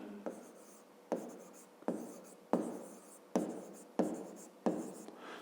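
Pen scratching on paper while numbers are written by hand for a fifth-grade math exercise: seven short, close scratchy strokes in a steady rhythm, quiet and without talk.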